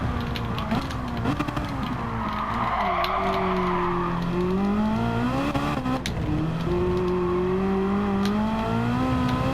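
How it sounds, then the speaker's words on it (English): An Alfa Romeo 4C8 braking on a race track: the engine note drops and shifts in pitch, with a steady road and wind roar throughout and no talk. "And I'm going to brake right now."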